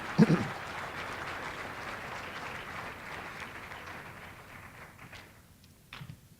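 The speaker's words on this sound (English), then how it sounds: "That is well worth applauding." Audience applause at a United Way Shining Stars celebration event, a steady soft wash of clapping in the room that thins and fades toward the end, with a few scattered claps and thumps at the close.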